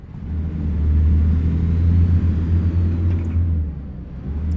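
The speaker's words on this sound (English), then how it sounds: "we're going to keep the window closed to keep the engine sounds down." Steady low truck engine drone inside an American Truck Simulator cab on the road from Raton, NM toward Santa Fe, NM, loud and continuous with a slight swell in revs, no voices.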